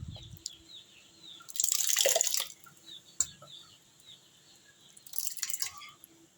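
Coconut milk drips and splashes as grated coconut is squeezed by hand through a cloth, with two short bursts of trickling liquid and scattered small drips, close and quiet, and a rooster or bird faintly in the background.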